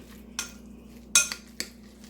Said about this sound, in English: All right, I'm going to stir this up.